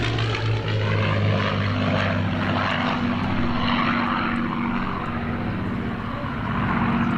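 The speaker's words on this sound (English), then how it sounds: "Hope you're enjoying the old aircraft." Old propeller aircraft engine droning steadily, a loud, continuous low hum with a strong rumbling tone and broad propeller wash, holding even throughout with no speech.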